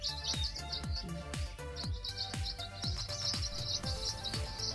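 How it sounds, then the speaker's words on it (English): Bright, high-pitched chirps from birds at the Lake Redbrook holiday campsite come in quick repeated bursts, over a steady background with regular thumping beats running underneath. "I didn't see this kind of bird at home."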